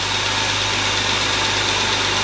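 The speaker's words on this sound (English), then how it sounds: "just let it idle for a little bit" A BMW E36 engine idles steadily on its own, a continuous even rumble with a low hum throughout and no revving.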